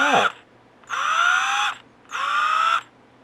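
A Ridgid 18-volt cordless drill is switched on in three short bursts, each a steady, fairly loud motor whine. The first burst winds down in pitch, and brief quiet gaps separate the runs.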